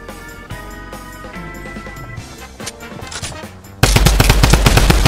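Rapid automatic gunfire from a video game weapon, dense rattling bursts that build and then turn into a loud, sustained burst of shots near the end, close and with no talk.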